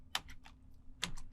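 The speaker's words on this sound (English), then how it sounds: "In the terminal window, type in AWS" Two short bursts of computer keyboard typing, close and quiet, as a command is entered in a terminal window.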